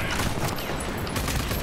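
Gunfire erupts in the video game Rage 2, a dense, loud, continuous burst of shots and impacts lasting under two seconds with no talk.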